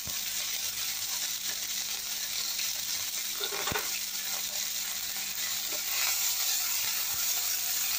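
Steady, loud sizzle of ginger and garlic frying in hot oil with salt, a continuous crackling hiss with a few sharper pops; no talking.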